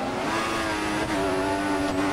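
An F1 racing car in the video game F1 2014 re-accelerates with poor traction, its steady high engine drone holding close and loud before stepping up in pitch partway through.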